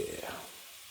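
Beef steaks sizzle in a skillet on a campfire cooker in a faint, brief burst of frying that fades quickly.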